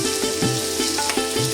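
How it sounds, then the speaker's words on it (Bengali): Chopped onion added to whole garlic cloves frying in hot oil for a Bengali dry fish bhuna, giving a steady close sizzle with bursts of stirring scrapes across the pan. "গরম তেলের মধ্যে প্রথমে গোটা রসুনগুলো দিয়ে দেওয়া হয়েছিল, এখন পেঁয়াজ কুচি দিয়ে ভালো করে ভুনা করা হবে।"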